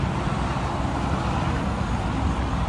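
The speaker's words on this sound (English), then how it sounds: "Two things I like to hear is traffic, because I know I'm going somewhere." Steady, dull rumble of interstate traffic passing a highway rest area, continuous wash of cars and trucks heard from a distance with no voices.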